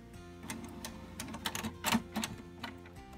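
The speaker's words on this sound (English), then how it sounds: "Printer is turning on." A Canon MX922 inkjet printer clicks and whirs as it starts up, with a steady mechanical hum under a series of rapid ratcheting ticks, fairly close and moderately quiet.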